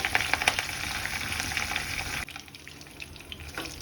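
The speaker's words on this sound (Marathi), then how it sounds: "आता आपण कढीपत्ता परतत आहोत" Curry leaves crackling and sizzling in hot coconut oil, a dense, steady spitting hiss close by that drops noticeably in loudness partway through and carries on more softly.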